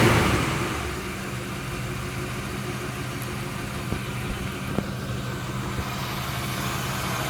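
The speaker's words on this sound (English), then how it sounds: "when I set the timing, I set it to idle at about 700 RPM. Sounds really smooth, runs like a new car." A 1978 Oldsmobile Delta 88 V8 with 39k miles idles smoothly around 700 RPM, a steady low rumble with no ticks, close and continuous, with a faint click or two.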